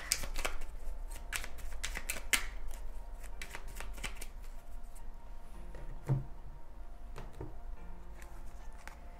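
Tarot cards shuffled by hand in a series of quick riffling bursts and soft slaps, close and fairly quiet, with pauses between runs and a faint thump near the middle.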